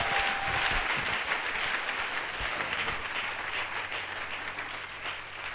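A church congregation claps and applauds loudly and continuously, the dense crowd clapping slowly fading over several seconds with no voices standing out.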